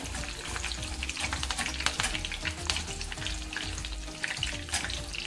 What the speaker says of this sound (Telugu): మనం ఈ విధంగా ఫ్రై చేసుకుంటే సరిపోతుందండి.